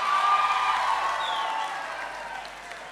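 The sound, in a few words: audience applause at pageant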